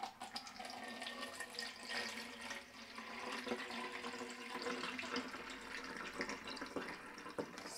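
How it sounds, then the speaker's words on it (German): Vinegar pours into a bottle with a faint, steady gurgling trickle that wavers slightly as the liquid fills, quiet and close with no speech. "Ja, jetzt füllen wir die Flasche mit Essig."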